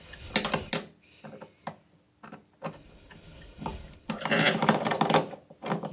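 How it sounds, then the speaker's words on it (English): A screwdriver turns the screw of a tub drain stopper, giving bursts of close, scraping, ratchet-like clicking with brief pauses between turns. "And then with the screwdriver, you tight the screw in."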